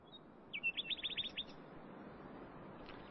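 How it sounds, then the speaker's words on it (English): A nightingale's song, used as a sound effect in an audio drama, sounds as a quick run of high, bright chirps lasting about a second, moderately close, over a faint steady background hiss with no talking. "That night I was kept awake by the unrelentingly beautiful song of the nightingales"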